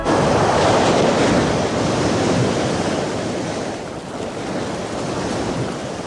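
Heavy sea surf roars continuously, waves breaking in a dense wash with gusting wind buffeting the microphone, loud and close, easing slightly toward the end.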